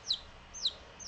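Three short, high peeps from Japanese chicken chicks, evenly spaced and fairly faint against a quiet indoor background.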